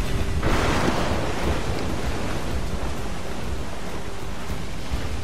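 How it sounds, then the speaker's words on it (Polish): Stormy sea waves in the pirate video game Assassin's Creed IV: Black Flag give a steady, loud roar of surf and wind, with a heavier surge near the start, continuous throughout and with no voices. "fale zaraz wyskoczą"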